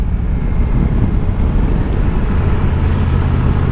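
A Triumph Tiger 1200 GT Pro three-cylinder motorcycle engine drones at a steady low pitch while riding, loud and continuous with heavy wind rush over the microphone and no voices.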